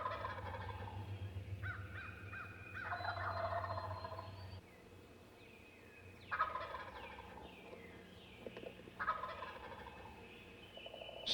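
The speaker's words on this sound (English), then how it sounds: "Listen to these gobblers." Wild turkeys gobble in the distance, several rattling bursts spaced a few seconds apart, with softer calls and a low background rumble between them.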